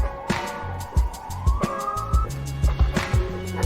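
Siren passing outside during a football podcast recording, a wavering tone rising and falling beneath irregular thumps and clatter, heard at moderate loudness through the room with no clear speech.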